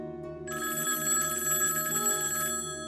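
A telephone bell rings in a quiet room at night, a continuous bright electronic trill starting after a brief pause and sustained for about two seconds, loud and close, with no one talking.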